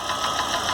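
A Chevrolet Corsa engine with a knocking fault in the cylinder head idles up close, a steady mid-pitched hum with a faint rhythmic ticking pulse and no voices.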